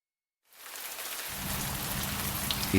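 Heavy rain falling in a Welsh mining village in October, a dense, steady hiss of downpour that starts after a moment of silence and then holds, loud and continuous.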